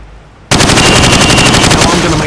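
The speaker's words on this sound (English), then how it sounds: "I want you to shoot the targets through the wood." Sustained rapid automatic gunfire from a Call of Duty: Modern Warfare training range, shooting pop-up targets through thin plywood, bursts in loud and close after a brief quiet start and keeps up a dense rattling stream.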